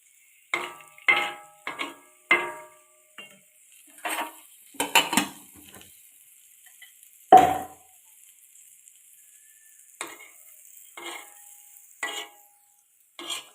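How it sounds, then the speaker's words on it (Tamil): Utensils clatter and scrape in a pan while egg biryani ingredients fry, in irregular bursts of stirring and knocks separated by quiet gaps, close and moderately loud with no talking. "இந்த மாதிரி ஃப்ரை பண்ணிடுவோம்."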